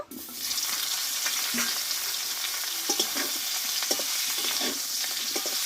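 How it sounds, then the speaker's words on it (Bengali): Cauliflower florets, already salted and spiced with turmeric, stir-fried in hot oil, with a loud steady sizzle throughout and occasional soft scrapes of a spatula against the pan. "ফুলকপিগুলোকে কষে নিব"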